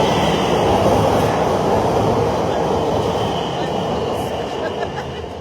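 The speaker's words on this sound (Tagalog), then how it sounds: "Uy, grabe kalakas yung train." Train rushing past at close range, a loud continuous roar of rumbling wheels and rail noise that holds steady throughout.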